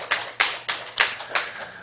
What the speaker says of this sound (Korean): 우리 서로에게 우리 박수 한번 치줍시다